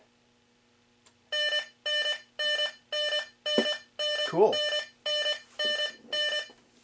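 On a 1980 Midway Space Encounters arcade machine, the timer-end alarm repeats nine evenly spaced electronic beeps, loud and close, while someone says a word partway through.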